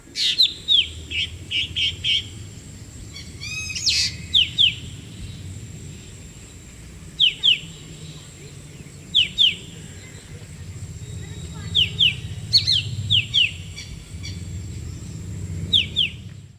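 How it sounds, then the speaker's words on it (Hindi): Birds in Kumaon chirp in short, bright bursts on a spring morning, repeating every second or two against a quiet, low background hum. "कैसे बसंत ऋतु के आते ही सुबह सुबह पक्षियों की आवाजें और गाने धीरे धीरे बढ़ने लगते हैं"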